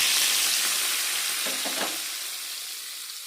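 Red chillies and asafoetida sizzle in hot oil with a bright, steady hiss that slowly fades, with a brief clatter of stirring midway.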